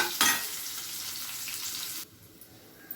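Onions fry in a pan for a broad bean curry, giving a bright, dense sizzle that starts with a sharp burst and then cuts off abruptly, leaving a quiet hush and a final tap.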